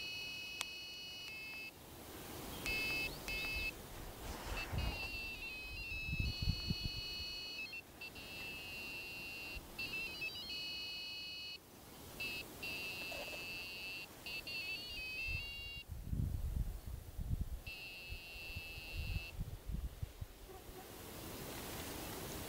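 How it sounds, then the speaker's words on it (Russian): A Terra N metal detector sweeps an abandoned forest road, giving steady high-pitched electronic beeps that repeat in bursts of varying length, with brief gaps and faint rustling between them. "Без конца идет сигнал перехода на статический режим."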